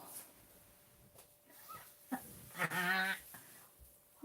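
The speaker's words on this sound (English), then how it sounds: "there's Claire's little pet dog" A small pet dog gives a few soft, breathy whimpers and one brief higher whine, close by in a quiet room.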